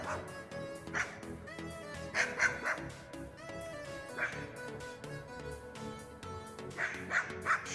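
A dog barks outdoors in several short, separated bursts at moderate distance, mixed with faint birdsong and background noise.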